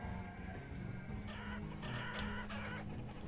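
Chickens cluck at a chicken farm in the village-building game Banished, faint repeated clucks over a steady ambient bed, with no talking.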